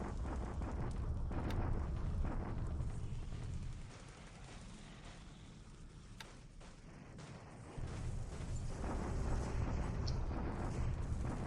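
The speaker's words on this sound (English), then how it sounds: "that's our bombardment" Naval bombardment explosions in the strategy game War in the Pacific, a steady low rumbling wash of distant blasts that dips briefly in the middle before swelling again, no talk.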